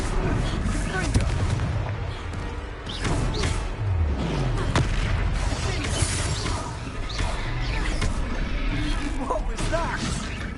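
Explosive spell blasts go off in the Hogwarts video game, sharp booms and crashes bursting over a busy, noisy game soundscape, with a voice speaking briefly.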